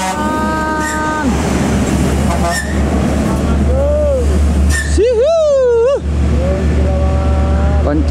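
A Sempati Star sleeper bus on the Medan to Pekanbaru road rushes past fast in a loud, close roar, with horn-like tonal sweeps from passing traffic and people talking throughout.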